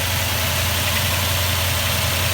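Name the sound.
2004 Toyota Tundra engine idling with vibration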